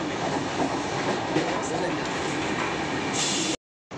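A steady, loud rumble and rattle fills the inside of a moving passenger train travelling from Boisar to Ujjain, continuous throughout apart from a brief dropout near the end.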